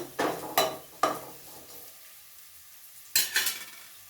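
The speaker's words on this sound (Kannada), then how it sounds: "ಚೆನ್ನಾಗಿ ಕಟ್ ಮಾಡ್ಕೊಂಡಿರೋ ಈರುಳ್ಳಿ 2, ಅದನ್ನು ಕೂಡ ನಾನು ಫ್ರೈ ಮಾಡ್ತಾ ಇದ್ದೀನಿ" Two chopped onions frying in a pan for kaju masala, with several sharp sizzling bursts and stirring scrapes near the start, a quieter low sizzle in between, and another loud stir-and-sizzle flurry toward the end.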